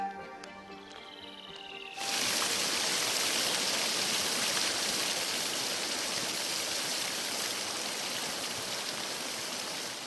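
A fast-flowing stream tumbling from volcanic hills in Ussuriland, a dense, steady, loud rushing roar that cuts in abruptly after a quieter start and continues without pause, with no voices.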